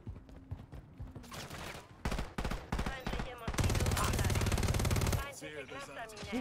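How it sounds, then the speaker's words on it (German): Bursts of gunfire from a Call of Duty MW3 multiplayer match, with rapid repeated shots and loud volleys that rise, break off and resume over the game's background noise. "Wer schießt hier?"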